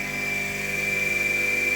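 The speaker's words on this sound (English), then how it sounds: "I'm going to grind the corners off." A grinder takes the corners off a cheese head screw held in a rawl plug, a steady loud high-pitched whine close by with no break.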